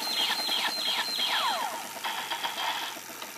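A Kamen Rider Fourze Meteor Driver toy belt gives out a burst of bright electronic chirps and descending zaps after being spun, followed by pulsing synthetic tones that fade out.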